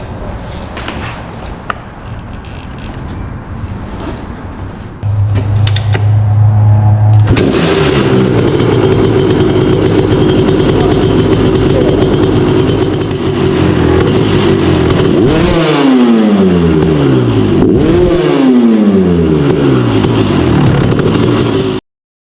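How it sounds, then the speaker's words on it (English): Kawasaki KX250 dirt bike fitted with a Pro Circuit silencer, starting up and revving hard, with loud sustained engine roar and repeated sharp throttle blips rising and falling near the end. "Should probably sound check the Pro Circuit silencer before we switch them out."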